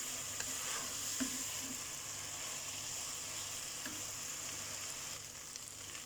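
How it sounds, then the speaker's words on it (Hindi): Rice for vegetable pulao roasting in a pan, a soft continuous sizzle with occasional light stirring scrapes, fairly quiet and steady with no talking. "चावल को 2 मिनट ज़रा सा भूनना है इसमें"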